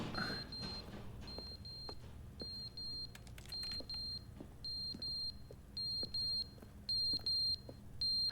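Repeated high electronic alarm beeps from The Stanley Parable: Ultra Deluxe sound in short double pulses at a steady rhythm, fairly faint over a low rumble with scattered soft clicks and thuds, and no one speaks.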